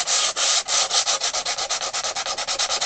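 A 1930s Pancotti accordion bellows frame being sanded by hand with 120-grit sandpaper, a close, loud rhythmic rasping of rapid back-and-forth strokes, steady and without talk.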